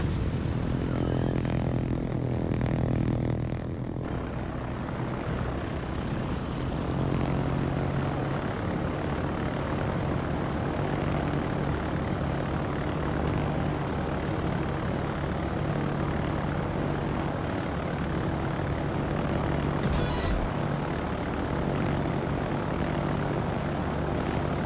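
A fighter aircraft engine in a video game gives a steady, continuous propeller-like drone that stays loud and even throughout, with a brief shift in tone near the start and no voices.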